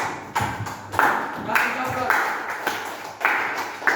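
A group claps hands together in a classroom, loud and close, in repeated bursts with a loose rhythm and some voices underneath.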